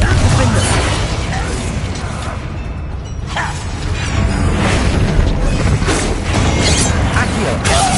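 A Confringo fire spell explodes in the video game Hogwarts Legacy with loud booming bursts and whooshing crackle in a constant dense mix of game noise, and a voice talks over it.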